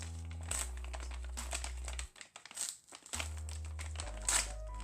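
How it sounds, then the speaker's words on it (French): A padded bubble-wrap envelope being opened up close, with crinkling and crumpling plastic and paper over a steady low hum, easing into a quieter stretch midway before more rustling resumes. "Maintenant, on va ouvrir l'enveloppe."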